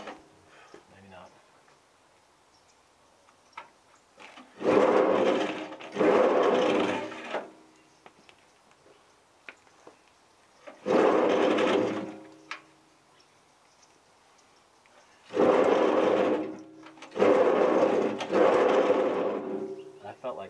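Old W W grinder engine cranking over with no compression after fuel is poured down the carburetor, producing several loud bursts of rapid, rattling mechanical churning separated by quiet gaps, with a voice speaking faintly in between.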